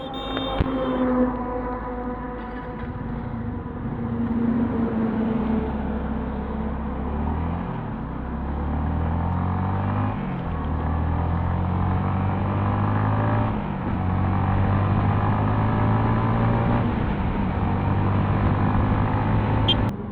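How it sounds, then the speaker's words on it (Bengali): A Yamaha XSR 155 motorcycle's 155cc engine running during a test, idling steadily and then revving in repeated rises and falls, close and loud for about twenty seconds with no speech. "চলুন তাহলে প্রথমে ইঞ্জিনটা টেস্ট করি, তারপরে বাকি কথা হবে।"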